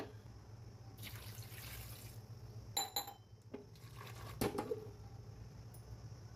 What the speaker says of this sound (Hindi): और इसमें अपन थोड़े पानी डालेंगे।